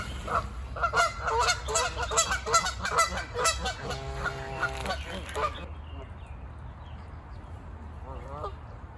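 A goose honks several times in quick succession, fairly near, then the calls stop, leaving quiet outdoor background with a faint call near the end, at a botanic garden arboretum in Los Angeles County.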